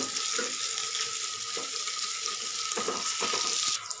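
Onions and garlic fry in a pan for a pumpkin leaf sambar, giving a loud continuous sizzling hiss with a few soft stirring knocks.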